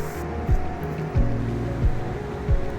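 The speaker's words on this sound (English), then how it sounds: "The ocean is booming." Ocean surf booms along the shore on a coastal hiking track, a steady low roar with rhythmic swells surging every half second or so, loud and close.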